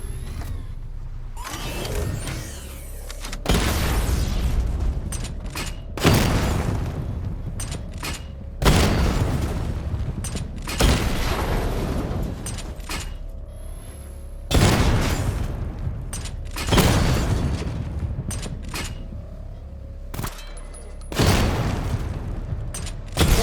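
Repeated heavy explosions and booming missile impacts from a missile barrage in the Batman: Arkham Knight Remastered video game on PS5, about eight loud blasts spaced a few seconds apart over a continuous mechanical rumble, with no talking.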